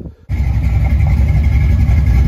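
A Ford 5.0 302 V8 with a repaired roller rocker fires up after a brief near-silent moment, then runs steadily at a loud, close idle with an even, throbbing rumble.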